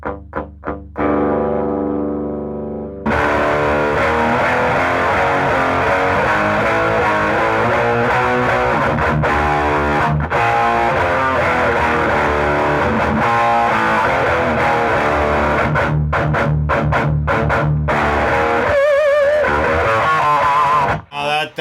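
Heavily distorted electric guitar plays loud and sustained through an overdriven tube amplifier fitted with a 6U8A tube, with a brief quieter strum before the full crunchy tone kicks in.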